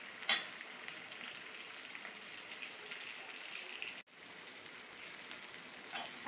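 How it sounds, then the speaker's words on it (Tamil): Onion and tomato sautéing in hot oil give a steady, moderately faint sizzle and crackle throughout, with a brief dropout near the middle and no talking. "அரை தக்காளி போட்டு நல்லா வதக்கணும்."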